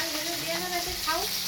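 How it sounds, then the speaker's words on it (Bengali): Fish fries in oil with a steady, close sizzle while a person talks over it. "মাছ ভাজা হচ্ছে।"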